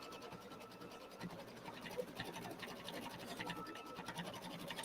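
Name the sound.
sewing machine stitching fabric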